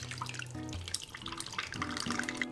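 Spicy marinade pours into a bag holding chicken pieces, a close, continuous gurgling liquid stream with sloshing and shifting tones, moderately loud, with no talk.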